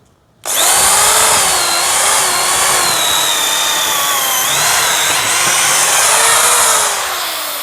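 A Dongcheng DJZ10-10 electric drill bores steadily after a short silent start, its motor whine loud and continuous with slight pitch shifts as load changes, fading a little at the end.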